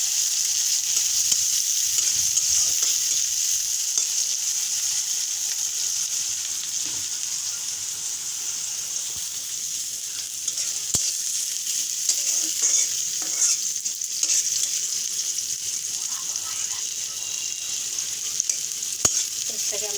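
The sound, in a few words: onions frying in a pan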